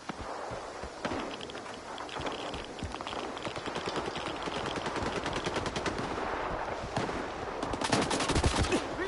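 Sustained automatic gunfire in STALKER 2 aimed at the player, rapid close bursts cracking continuously under a rainy backdrop, growing louder with sharp peaks near the end.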